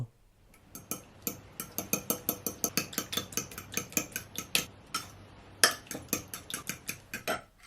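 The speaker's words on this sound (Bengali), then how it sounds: "আমরা আরেকটা বাটিতে দুটো ডিম নিয়ে ডিমগুলোকে ফেটিয়ে নেব" Two eggs beaten in a bowl for a milk-powder rasmalai batter, a utensil clicking against the bowl in a fast, steady run of sharp taps, close and fairly loud, with a brief pause before the rhythm resumes.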